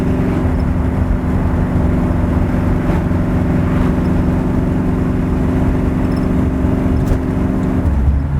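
A 1982 Ford Mustang donor car's engine drones steadily while driving, a continuous low mid-pitched hum held at an even level throughout, with no one speaking.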